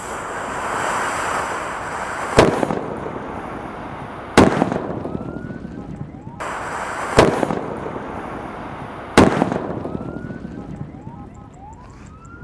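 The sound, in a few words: paper-wrapped firecrackers exploding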